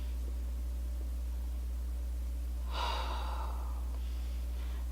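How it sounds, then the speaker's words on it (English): A single brief sniff at a pumpkin pecan waffles scented candle, one short close breath in the middle against a steady low hum, with nothing else happening. "Let me get my sniff on."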